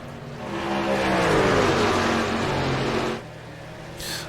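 Racing trucks roar past on the Homestead oval in the iRacing simulator, a loud engine drone that swells and pitches down as the pack sweeps by, then cuts off abruptly, leaving a brief quieter tail.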